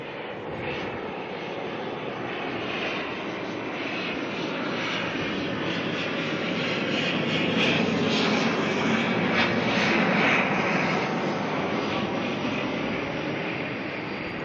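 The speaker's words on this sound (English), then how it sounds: "Waiting for an ATR though, coming in from Tauranga." An ATR turboprop airliner arriving at Auckland Airport from Tauranga, a steady broad engine roar with propeller drone that swells gradually and stays loud throughout, with no talk.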